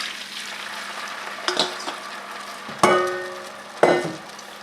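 Wet ingredients poured onto golden caramelized onions in a pan for maple bourbon ribs: a low background sizzle broken by three bursts of louder hissing and clatter as liquid hits the heat.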